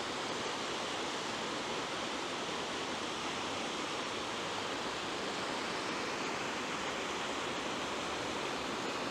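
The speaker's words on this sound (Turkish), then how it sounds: "üzeri açık bir dere." An open stream running through a city rushes with a dense, steady roar of water, loud and continuous, with no voices.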